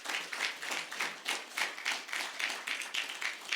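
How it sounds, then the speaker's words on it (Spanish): A church congregation claps in rhythm, a rather faint, evenly spaced beat of hand claps at roughly three per second. "Dale un aplauso al Señor."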